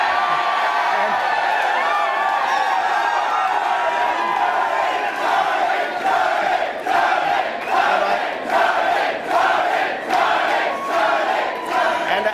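An election night crowd cheers and whoops loudly, a sustained roar of many voices with rhythmic surges of chanting toward the end, filling a large hall.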